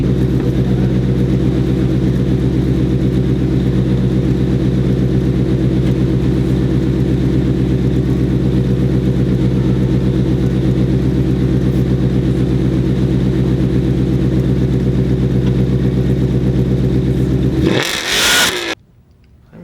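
A 2015 Ford Mustang GT V8 held on a WOT Box 2-step launch limiter, a loud steady near droning rev with a choppy pulsing edge for most of the time before it abruptly cuts off near the end.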